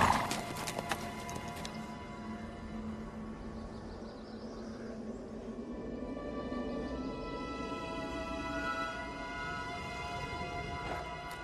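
Horses ride at a walk on a hunt, hooves clip-clopping in a steady rhythm, with a whinny near the start and a soft, sustained musical score beneath.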